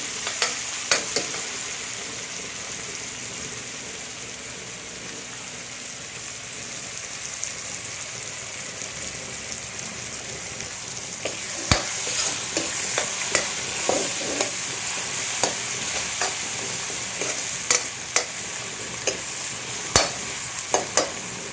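Dried Bombay duck fish fries with onions in a pan, giving a continuous close sizzle. Stirring scrapes and sharp taps come more often in the second half, with no voices.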